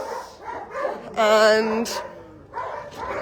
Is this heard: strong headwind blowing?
no